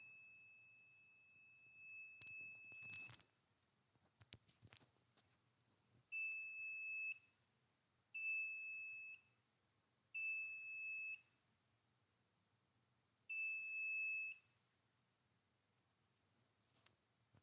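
A water level alarm's electronic buzzer sounds a high steady tone, first in a short burst, then in four one-second beeps at regular intervals, with faint handling noises between.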